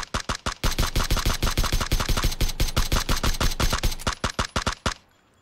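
Rapid automatic gunfire in PUBG aimed at a Jeep, a long loud burst of evenly spaced shots lasting several seconds, slowing near the end and then stopping abruptly.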